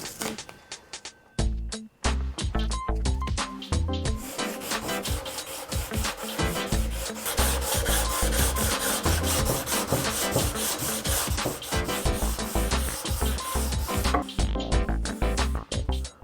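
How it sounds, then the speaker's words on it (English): Sanding a Brazilian rosewood fingerboard with 120 grit sandpaper: steady, close rasping strokes in a fast rhythm, loud and continuous after a brief pause near the start, with no talking. "I'm going to switch down to 120 grit sandpaper and start to fine sand that now"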